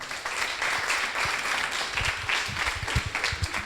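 Audience at a notaries' management workshop applauding to welcome a speaker: moderate, even clapping from a room of people, somewhat distant, with a few sharper individual claps toward the end.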